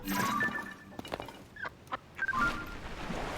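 Short honking and quacking calls from birds, a few scattered cries over a soft hissing backdrop, with small clicks between them.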